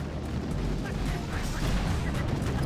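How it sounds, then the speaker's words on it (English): Boom cannons in the Boom Beach game fire in a dense, continuous rumble of low booms and pops with battle noise, while someone talks over the top. "there's a couple troops getting popped over here by these boom cannons"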